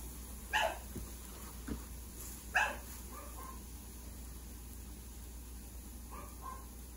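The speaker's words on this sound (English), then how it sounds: "They're still barking." Dogs bark at home during cooking, a few sharp barks near the start, then sporadic quieter yips and barks trailing off, somewhat distant over a low steady background hum.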